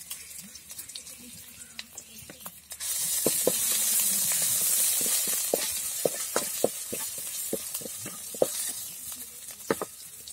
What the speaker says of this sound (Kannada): ಶುಂಠಿ ಬೆಳ್ಳುಳ್ಳಿ ಪೇಸ್ಟ್ ಹಾಕ್ತಿದ್ದೀನಿ.